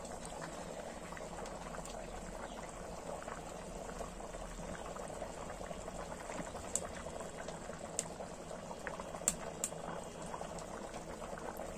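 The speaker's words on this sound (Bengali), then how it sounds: "তরকারিটা ফুটে উঠেছে, ভাজা মাছটা দিয়ে দেব।" Curry of elephant foot yam (ol) in spiced water boiling in a pot, a quiet, steady bubbling with occasional small pops, no voices.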